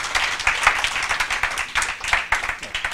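An audience claps after a JavaScript conference talk, a moderately loud, uneven patter of individual hand claps with small surges, fairly close, with faint voices mixed in.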